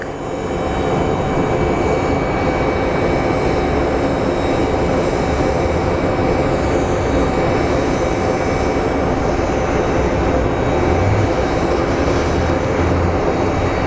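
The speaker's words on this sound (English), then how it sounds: "we have American Airlines Boeing 737 MAX coming from New York" An American Airlines Boeing 737 MAX jet at Phoenix Sky Harbor airport, a steady, loud broadband engine roar that holds throughout without breaks or voices.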